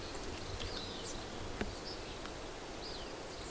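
Faint buzzing of bees and other insects over a pond, with thin intermittent whines drifting past against steady outdoor background noise and a single soft tick partway through.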